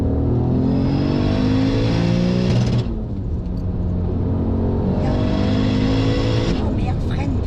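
A tuned 650-horsepower Audi A3 with a 3.2-litre turbo V6 accelerates hard. Its loud engine note climbs steadily, dips briefly, then climbs again, with voices inside the car beneath it.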